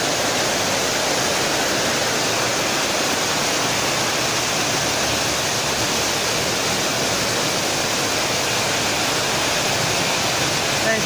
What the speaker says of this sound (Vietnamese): Đây là bơm công suất cực đại nha